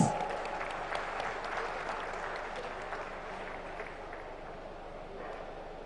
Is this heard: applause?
yes